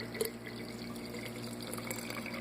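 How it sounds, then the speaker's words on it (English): Tap water pours steadily into a homemade sprouting jar of wheat berries for soaking, a constant low splashing fill with no one talking. "fill it up with water"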